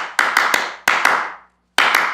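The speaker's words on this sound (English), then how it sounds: "Ron has this whole clap thing." A man's signature cheer at a girls' team game: sharp, loud hand claps in quick bursts of two or three, ringing briefly into the room, with a short pause before the last pair.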